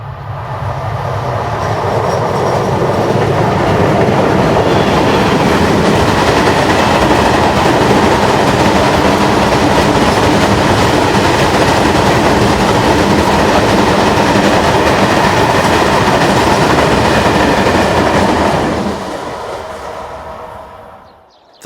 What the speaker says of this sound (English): Here they work a westbound hopper train, together with a Class 740 diesel used for yard shunting.